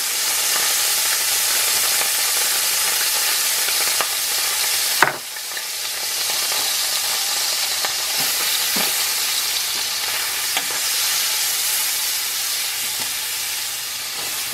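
Garlic frying in butter for cheese-stuffed potatoes, a steady, loud, bright sizzle close by with a brief stir or clatter around the middle, continuing unbroken without talk.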